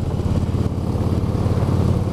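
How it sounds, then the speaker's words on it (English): An air-cooled Harley-Davidson Electra Glide Classic motorcycle rumbles along while being ridden in cold November weather, a loud, steady, low engine drone with a pulsing exhaust beat and wind noise, with no talking. "I am riding the old Harley Electroglide Classic here"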